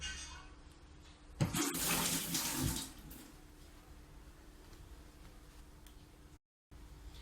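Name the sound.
adding water to a blender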